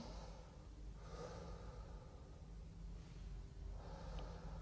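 Slow, deep breaths in and out, close and quiet, with a faint hiss on each inhale.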